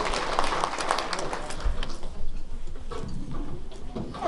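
Audience applause for attendees aged 90 and over at a historical society quilt event, a brief round of clapping from a modest crowd, loudest at the start and thinning toward the end.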